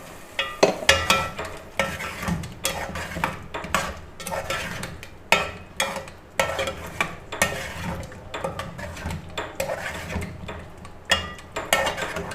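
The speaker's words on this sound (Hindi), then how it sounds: "ये मसाले में अच्छी तरह इसे आलूओं को भूनना है" Potatoes frying in a pan with red chili, salt, cumin and turmeric for aloo wadiyan salan, with a steady sizzle under frequent scraping, stirring and utensil clatter against the pan.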